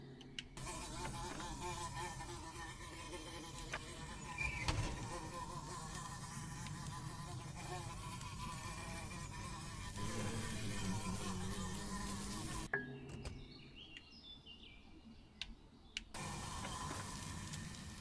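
Steady insect-like buzzing of bees in Little Squirrel Cabin, a 2D survival horror game, drones continuously and evenly at a moderate level, dropping out briefly near the end before returning.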